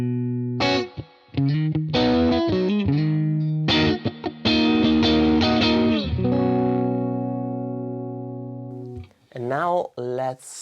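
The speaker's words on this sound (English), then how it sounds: "Let's add a touch of reverb." Electric guitar played through a UAFX Dream 65 amp pedal in a style mode with a little gain and a touch of reverb, loud chords and single notes ringing out with a reverb tail, then a brief phrase.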